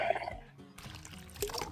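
Liquid being poured into a 20 liter container, a short splashy pour with brief gurgles and a quieter pause partway through.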